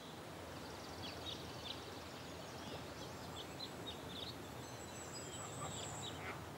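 A lone duck calls among a flock of geese in open countryside, faint honks and quacks scattered over a steady outdoor hiss, distant rather than close.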